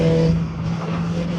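Voge RR 500 S four-cylinder motorcycle riding through a corner in fourth gear, a loud steady engine drone with a constant pitch close up, heard over a short moment.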